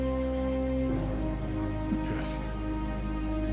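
Steady rain pours over a film scene of a man being baptized, a dense constant hiss under a low hum, with a single brief spoken word.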